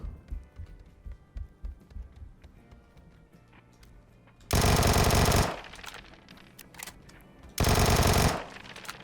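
Two long bursts of rapid-firing cannon fire in a video game, loud and dense, separated by quieter game background noise with faint thuds.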